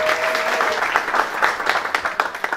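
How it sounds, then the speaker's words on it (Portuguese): Audience clapping at a birthday party for a chamarrita dance group in Faial, Azores: steady, dense applause close by that continues throughout and loosens into scattered claps toward the end. "Uma salva de palmas para elas."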